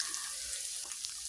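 Ground spices with turmeric, cumin, coriander and salt frying in a pan for hilsa fish tail bharta, a soft steady hiss of sizzling oil with faint stirring clicks.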